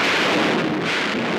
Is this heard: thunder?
yes